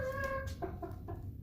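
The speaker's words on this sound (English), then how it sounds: "We hear him making lots of his little chuckle clucks there." A rooster gives a run of soft, low chuckling clucks, several short notes in quick succession, faint against a steady low background.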